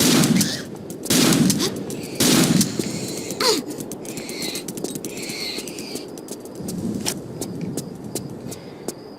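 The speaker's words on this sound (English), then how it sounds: "I am going to use the shotgun." Shotgun fire in a Tomb Raider custom level set in a London zoo: several loud, booming blasts in quick succession, followed by scattered game effects and lighter clicks over a continuous background hum.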